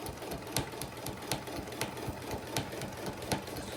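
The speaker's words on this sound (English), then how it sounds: "I'm using my walking foot, and I'm just going to sew on those little chalk lines we made" A sewing machine with a walking foot stitches fabric in a quiet, rapid mechanical chatter, with regular soft clicks about twice a second under the even whir.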